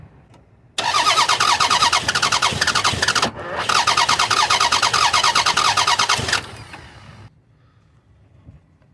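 A Lexus ES300 engine cranks over for a cylinder compression test, a loud, rapid, rhythmic starter churn lasting several seconds with a brief break midway, then stopping into quiet.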